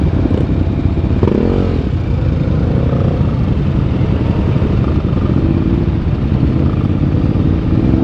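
Illegal street racing motorcycles roar loudly and steadily along a public road, engines droning without a break from start to finish.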